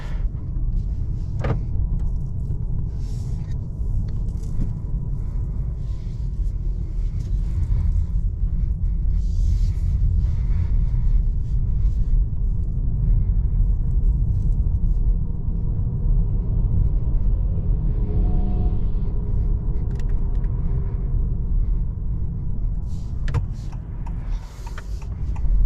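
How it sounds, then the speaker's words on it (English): Steady low rumble inside a 2024 Honda Accord Hybrid under way in EV mode, a constant road and cabin drone with a few faint clicks and rattles, no talking. "let's go ahead and take this Accord on a drive and see how it does."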